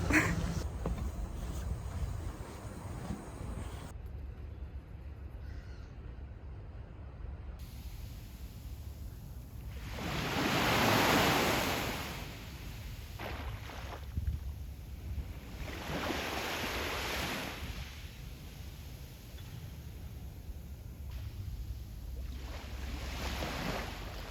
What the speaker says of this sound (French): La plage est vide.